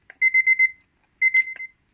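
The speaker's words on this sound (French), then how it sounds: "là c'est le niveau sonore de l'alarme" A CHEREEKI digital alarm clock sounds its alarm as two bursts of rapid high electronic beeps, four quick beeps each, separated by a short pause, close and clear with no talk.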